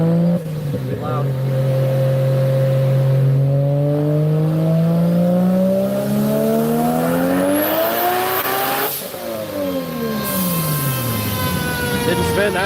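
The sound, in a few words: car launching and accelerating hard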